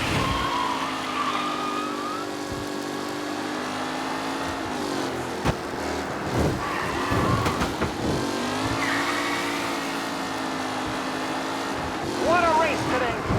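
Race cars in the Mafia Definitive Edition video game roar past, their engines revving and shifting pitch up and down continuously and loudly, with voices heard at times over the motors.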